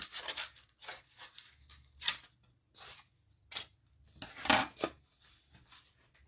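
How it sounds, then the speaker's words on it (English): Scissors cutting paper to trim a monoprint art piece, heard as a series of crisp, close snips and rustling slices in an uneven rhythm, with short quiet gaps between cuts. "I am going to cut this down a little bit right here just to make it fit in my book better."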